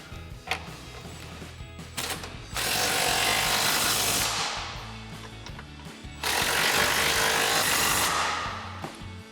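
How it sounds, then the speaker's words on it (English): An impact wrench with a 21mm socket and swivel adapter drives lower control arm bolts tight on a Jeep Wrangler JK. Two long, loud rattling bursts come close up, separated by quieter clinks and handling noise. "tighten back down our lower control arm bolts using our 21mm socket and swivel adapter on our impact"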